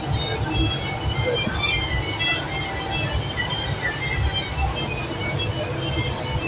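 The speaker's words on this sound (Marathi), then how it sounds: "ट्रेनमध्ये बसलो आता मस्त. ट्रेन चालू झाली." Steady rumble and rattle of a moving Mumbai local train carriage departing CST, with continuous wheel and track noise filling the whole stretch and faint voices mixed in.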